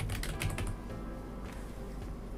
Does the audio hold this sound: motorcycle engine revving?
no